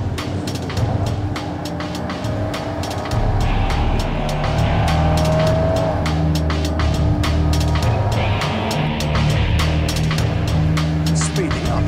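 A car speeding up to overtake on the road, a loud continuous engine and road roar heard from close by with sharp clicks and rattles, alongside raised voices.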